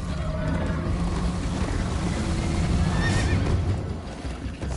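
Horse neighing and whinnying with steady clip-clop hooves as it gallops in Minecraft Story Mode, a continuous loud scene with water-like ambience underneath and no talk.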